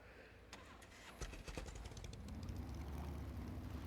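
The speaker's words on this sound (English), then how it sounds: "this does kind of seem like fun, just riding a motorcycle on the beach" A motorcycle in the survival game SCUM rides across beach sand, its engine revving and rising into a steadier drone, with a few sharp clicks and thumps at the start.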